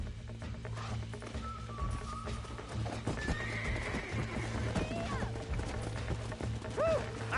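A horse in Red Dead Redemption 2 on PS5 whinnies with a rising, wavering call while hooves clip-clop steadily on the ground, close and clear over a low game ambience.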